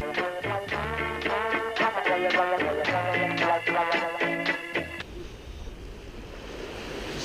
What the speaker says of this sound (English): Just listen to that lovely ocean.